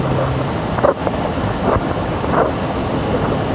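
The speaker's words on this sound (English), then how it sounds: "It's about to get real windy." Strong wind roars and buffets steadily, with gusty rushing noise throughout and no voices.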